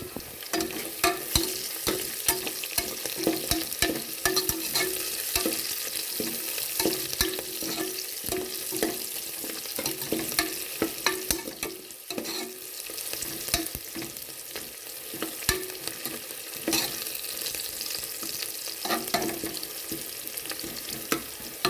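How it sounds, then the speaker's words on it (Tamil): Onions and lightly crushed garlic sauté in a pan for rice-and-lentil dish, a continuous bright sizzle broken by frequent spoon scrapes and taps as they are stirred, heard close with no speech. "வெங்காயம் நல்லாவே வதங்கிடுச்சுங்க."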